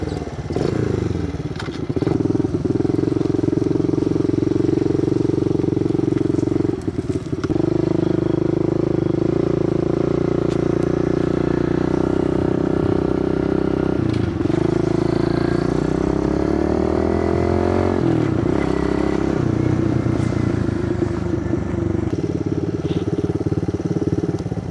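Pit bikes ride an evening road run from Goulds toward the Trans Canada Highway, their small engines droning loudly and continuously at close range, with a few brief dips and shifts in pitch as the throttle changes.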